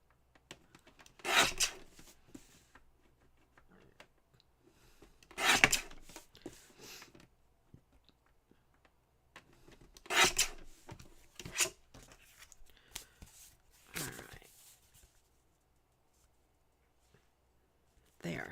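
Scissors or a trimmer cutting excess white from a recycled card, heard as several short crisp rasping bursts spaced a few seconds apart, with quiet pauses between them.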